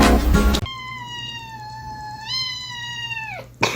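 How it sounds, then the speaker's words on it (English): A kitten gives one long, drawn-out meow that rises slightly in pitch and then trails off, clear and close. Brief rustling comes before and after it. "Look at this little kitten."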